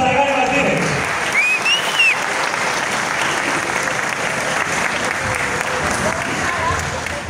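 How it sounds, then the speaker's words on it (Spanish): Dense, steady applause from a large outdoor crowd at a political campaign launch event, rain falling, continuous and loud throughout with a few whistles rising above the clapping. "Un aplauso para Gary Martínez."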